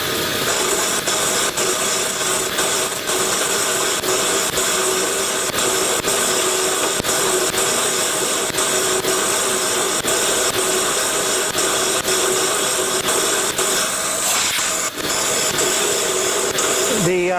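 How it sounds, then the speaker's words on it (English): Compressed air blasts out a hole being cut with a hole saw during a gantry crane build, a steady loud hiss that runs unbroken under constant workshop machine noise. "every little bit I'm going to blow it out with air"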